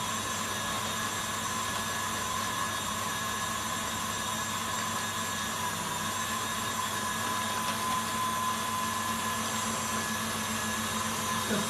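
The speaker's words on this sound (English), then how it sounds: "I've got to get used to not touching the mixer with my spoon" An electric food mixer runs at a steady speed, whisking meringue for a pavlova. It gives a constant loud whir and hum with tonal whine and no pauses, and there is no speech.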